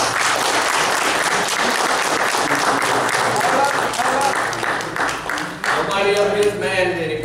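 Loud, sustained applause from a crowd at a family reunion business meeting with individual claps audible; toward the end it thins as a voice begins speaking over it.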